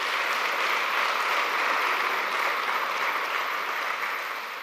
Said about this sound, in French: Et je voudrais qu'on les applaudisse très très fort.